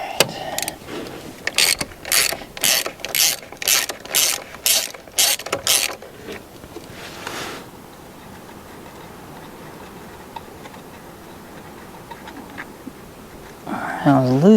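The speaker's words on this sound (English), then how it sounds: "Let's pop these valve covers off and see what's hiding underneath." Close, loud ratchet clicks in a regular run of bursts as valve cover bolts come off a 1961 Buick Electra parked for over 40 years, followed by quieter shop noise and a brief rustle at the end.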